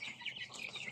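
Week-old chicks on a backyard farm peep in faint, high, rapid chirps, several overlapping softly at a distance.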